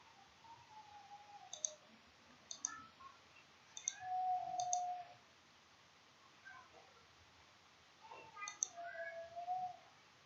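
Sparse, quiet key clicks from a computer keyboard as a value ID is typed into a school academic information system, a few isolated taps in short bursts over faint room noise, with no talking.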